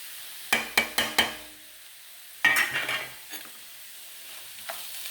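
Ground turmeric, cumin and pepper being fried in a pan, with a few sharp stirring clatters up close followed by bursts of sizzling that fade into quieter crackles.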